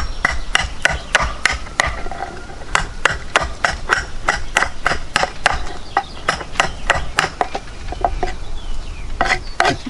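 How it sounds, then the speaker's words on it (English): A steel knife of 62rc Niolox taps repeatedly into a cow femur bone, chipping it: a rapid run of sharp, close, loud clicking knocks in irregular bursts with brief pauses, no talking. "This is cow femur bone, and I'm going to tap, chipping it out a little bit"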